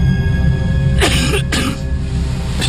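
A person climbing a high mountain in the cold coughs hard, two rough bursts close together followed by a fainter third, heard over steady background noise.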